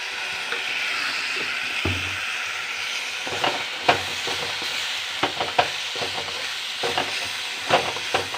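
Samosa filling being stirred with spice powders in a pan: a steady sizzle of frying runs throughout, with a spoon scraping and knocking against the pan in irregular clusters, close and fairly loud, with no talk.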